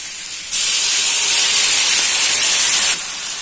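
A loud, sharp sizzling hiss bursts up suddenly as a little water hits a hot pan of stir-fried water spinach and fried tempeh, holding steady for a couple of seconds before easing off.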